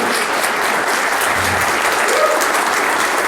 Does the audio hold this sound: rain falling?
no